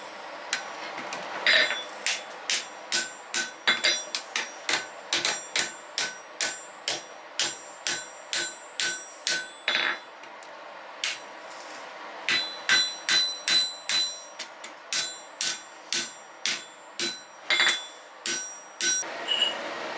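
Steel hatchet being forge welded by hand: a long series of ringing hammer blows on the anvil, close and loud, struck in steady bursts with short pauses between them.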